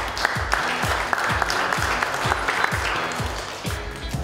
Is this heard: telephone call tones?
no